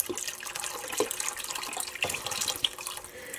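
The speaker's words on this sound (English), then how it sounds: "I'm also going to add between a half a quart and a quart of water" Water from a tap runs into a cooking pot already holding store-bought bone broth, a steady close splashing stream for pork and beans, with a few brighter drips and no talking.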